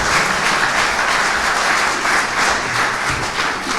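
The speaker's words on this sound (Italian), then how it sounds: "Un grande applauso al nostro ospite" An audience at a talk with chef Emanuele Scarello gives a thick, continuous round of applause for the guest, many hands clapping evenly and fairly loud throughout.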